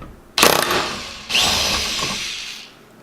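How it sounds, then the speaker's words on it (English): A power tool works a seized nut clamped in a vise during an E30 brake booster install, running in two loud close bursts of about one second each, separated by a brief gap, with no talking. "and then impacting this off"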